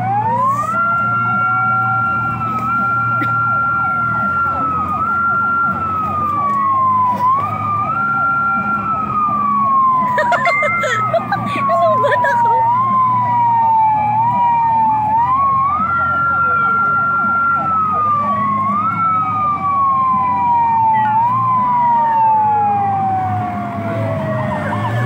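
Police sirens in a homecoming motorcade roll past continuously, several wailing and yelping tones overlapping loudly and close, with traffic noise beneath and brief bursts of commotion midway.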